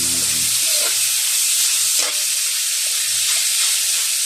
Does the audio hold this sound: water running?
no